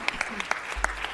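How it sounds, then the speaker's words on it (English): Applause in a city council chamber: a handful of distinct, sharp claps spaced fairly evenly, sparse rather than a full ovation, with a low thump near the end. "Let's give her a round of applause."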